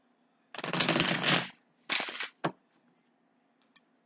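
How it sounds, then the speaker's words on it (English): A deck of tarot cards is shuffled in close, crisp riffling bursts: one long shuffle, a shorter second, then a quick snap and a faint tap, with quiet between them and no talking. "Necessary to shuffle these once more."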